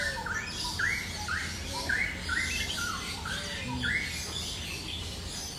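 Lories call in an aviary at Bird Paradise in Singapore, a steady run of short, bright squawks repeated every half second or so over a dense wash of other birds.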